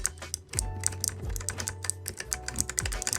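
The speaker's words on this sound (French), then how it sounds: "Et pourquoi pas un clavier Razer qui va avec le Black Widow Green Switch" Rapid, close typing on a Razer BlackWidow keyboard with Green switches produces a crisp, steady run of clicky keystrokes with no voice.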